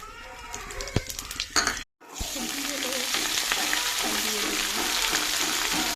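Mixed vegetables including radish, cabbage, long beans, eggplant and potato sizzle and fry in a pan, with a brief stirring clatter before a steady, close hiss takes over.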